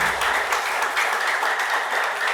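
Applause from an audience honoring the Haitian national police at an outdoor community gathering in Trou-du-Nord, a steady, dense wash of clapping that holds evenly throughout without pause.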